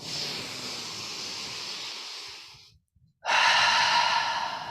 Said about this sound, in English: And again, deep breath in.